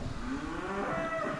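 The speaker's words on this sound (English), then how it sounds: "it could just start into a chorus of cows and calves bawling at any second" Cows and calves in a calving shed, a long, steady bawling moo that carries on continuously at moderate loudness.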